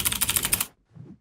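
A computer keyboard key tapped rapidly in a burst of clicks, then a softer second cluster after a short pause, close and alone with no voices, during a Prince of Persia: The Sands of Time speedrun.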